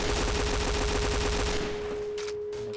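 A P90 fires fully automatic in the shooter game Point Blank, a loud, steady, rapid rattle of evenly spaced shots that stops partway through, leaving a few faint clicks.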